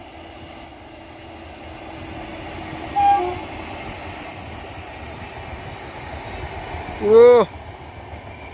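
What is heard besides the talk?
Sairang Kolkata Express train running, with horn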